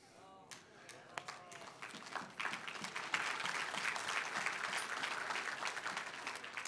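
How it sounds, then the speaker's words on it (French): An audience at a sermon breaks into applause, starting with scattered claps and a voice, then swelling into dense, sustained clapping from a crowd across a large room. "Les gens qui applaudissent, qui ont compris l'application"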